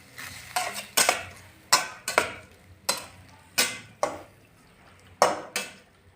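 A spoon scrapes and knocks against a cooking pot while tomato and vegetable curry is stirred, giving sharp, irregular metallic clinks roughly every half second, close and loud with no talking.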